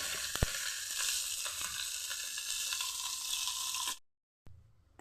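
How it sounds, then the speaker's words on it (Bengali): Cauliflower and potato pieces fry in hot oil in a wok, giving a loud, steady sizzle that cuts off abruptly near the end, followed by a brief burst of noise. "এখন কড়াতে তেল দিয়ে ফুলকপি আর আলুগুলি ভেজে নিচ্ছি"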